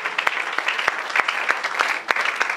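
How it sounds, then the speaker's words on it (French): A church congregation claps loudly during a lively French and Lingala worship service, with sharp, irregular hand claps ringing over a steady wash of sustained applause. "Acclamons très fort."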